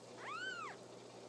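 A newborn rescue kitten, found covered in rocks and dirt, gives a single clear, high, drawn-out meow, close by in a quiet room.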